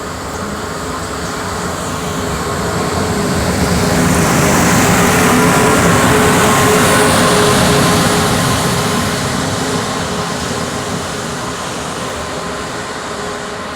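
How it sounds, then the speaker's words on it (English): A Mitsubishi locomotive hauls a train through a station without stopping in the rain, a broad steady roar that swells toward the middle and slowly fades, loud and continuous with no talk. "Attention, a train is going to approach without stopping."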